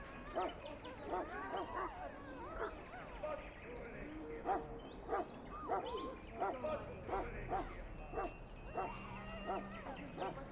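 A Mabari war hound in the Dragon Age: Origins video game barks and yips repeatedly in short bursts, mixed with birdlike chirps and background bustle, while voices talk over it.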